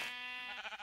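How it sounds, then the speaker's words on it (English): A sheep from the Minecraft video game bleats once, a single wavering, nasal baa that trails off quickly and stands alone, clear and close. "Stupid sheep."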